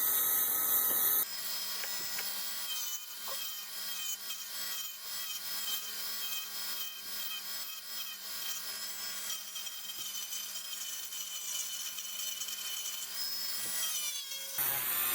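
A belt sander works over a wooden bark handle, giving a steady close abrasive rubbing hiss that runs almost the whole time, starting after a brief pause and cutting off at the end, with no talking.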